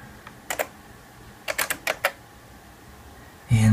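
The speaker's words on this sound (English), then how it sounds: "let me just go ahead and type in the password" Keys on a computer keyboard tapped to enter a password on a Mac Pro 1,1 running OS X El Capitan: a couple of quick keystrokes, then a short burst of five or six clicks, close and fairly quiet, ending in a louder low thump.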